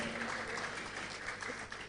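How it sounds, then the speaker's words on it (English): Steady applause from lawyers and senior advocates fills the room throughout, a dense, even wash of clapping at a formal report presentation. "it is mainly lawyers and senior advocates that are clapping"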